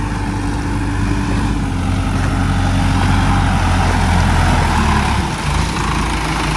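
A Sonalika 60 RX tractor engine runs steadily up close during rice-field puddling, giving a loud, constant low diesel drone with a slight change in pitch near the end.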